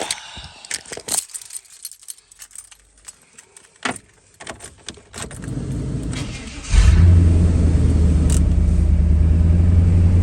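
A 1996-1998 Chevy Silverado engine fitted with a new idler pulley starts up after jangling keys and clicks, then settles into a steady, loud, close idle rumble.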